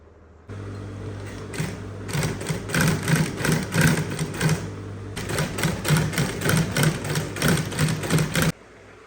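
A sewing machine stitching African fabric ribbon with matching thread, two bursts of rapid rhythmic mechanical whirring and clatter, close and loud, separated by a short pause.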